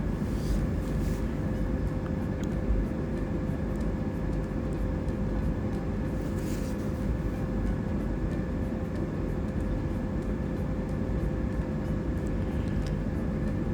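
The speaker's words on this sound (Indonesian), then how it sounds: "Dan sekarang kita sudah mulai taksi atau berjalan menuju runway untuk lepas landas." Steady, continuous engine drone inside the cabin of a Boeing 737-800 taxiing toward the runway, a constant low rumble with a faint whine, no talking.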